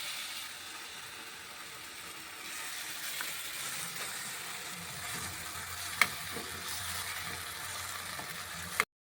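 Masala with a couple of spoons of sour curd frying in a pan for Kerala-style fish biryani, a steady close hiss and sizzle running throughout with a couple of sharp clinks near the end.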